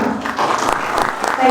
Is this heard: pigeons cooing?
no